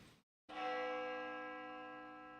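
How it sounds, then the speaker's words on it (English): A school clock tower bell in Spirit Hunter: Death Mark II strikes once after a brief silence, ringing loud and close with a long, slowly fading metallic hum. "The sound of a bell rings loudly in my ears. It must be coming from the school's clock tower."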